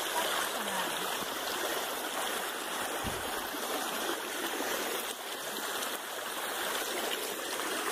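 Water runs along a normally dry mountain trail on Pico do Selado near Monte Verde after heavy rain, a steady broadband rush close by, with a brief low thump midway.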